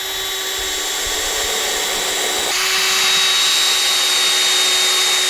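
A power drill drives screws into a soft Western Red Cedar beehive box, a steady whirring motor with a high whine running continuously and close, rising slightly in pitch and loudness midway through.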